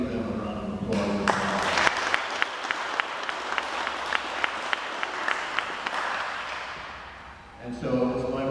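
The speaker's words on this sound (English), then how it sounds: "so I'd like to give them a round of applause" Applause for Providence College guests at a park grant presentation: a crowd claps steadily for about six seconds, then it fades out, with a speaker's voice before and after.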